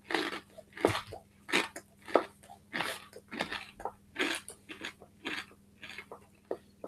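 Someone biting and chewing crispy food up close, a steady series of crunchy bites and chews over a faint low hum, with no talking.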